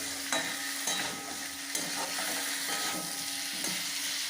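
Potatoes being stirred into a chicken stew pot over the heat, with repeated scraping stirs at a regular pace over a continuous sizzle, close and fairly loud.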